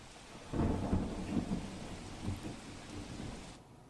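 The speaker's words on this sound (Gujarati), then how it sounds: "બનાસકાંઠાના પાલનપુરમાં ત્રણ ઇંચ વરસાદ વરસ્યો" Heavy monsoon rain in Palanpur, Banaskantha, roars steadily as thunder rumbles loud and close, swelling in waves under the downpour with no voices.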